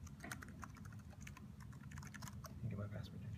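Typing on a computer keyboard while an Apple TV is configured in a campus classroom: faint, irregular key clicks over a steady low room hum.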